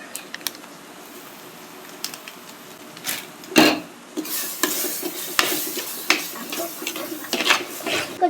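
Masala for mutton gravy, with coriander powder and chicken masala added, sizzles in a pan while a spoon stirs and scrapes it in close, repeated strokes.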